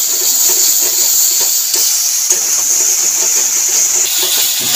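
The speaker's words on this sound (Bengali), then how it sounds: "মশলাটাকে ভালো করে কষিয়ে নেব।" Masala spices with turmeric and salt fry in hot oil in a pan for a Bengali potato and puti fish curry. A steady, loud, close sizzling hiss carries on without a break.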